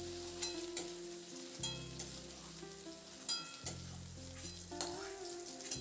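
Potatoes and ivy gourd fry in hot oil, a soft continuous sizzle with small crackles, close but quiet, with no voices.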